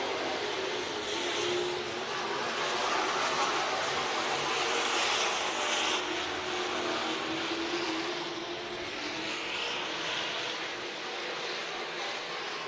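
Modified race cars roar around the dirt oval at Crawford County Speedway during a heat race, a steady, loud engine drone that swells and eases as the pack passes, with no voices.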